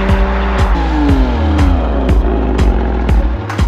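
A Porsche Cayman 987 with a loud exhaust drones close by in a deep, rumbling tone, pitch sliding as the revs change, broken by regular rhythmic pulses like gearshifts or passing seams.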